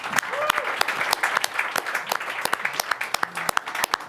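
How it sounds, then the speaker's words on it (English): Audience applause at a live Christmas concert, a full burst of clapping with scattered individual sharp claps standing out near the end, and a voice briefly audible underneath. "we got to give them a round of applause again"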